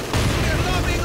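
Gunfire from an MG-42 machine gun in the Company of Heroes 2 battle game, a dense continuous burst of rapid shots lasting about a second, loud and close, mixed with other battle noise.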